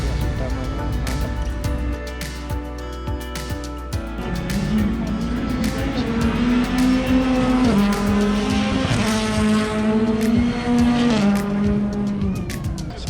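Subaru rallycross race cars compete at ARX St. Louis 2019, their loud engines rising and falling through gear changes as they pass close by, with tire noise and some crowd sound.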